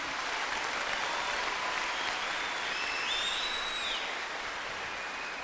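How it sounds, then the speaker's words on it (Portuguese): Applause from a church congregation during a talk by Padre Léo on the sacred family, a dense, even roar of clapping sustained throughout, with a faint whistle-like tone partway through. "vou aplaudir"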